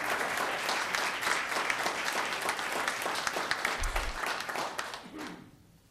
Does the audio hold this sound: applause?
yes